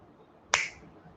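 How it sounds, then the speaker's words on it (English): One sharp finger snap lands in the middle of an otherwise quiet stretch, crisp and close. "when I snap my fingers"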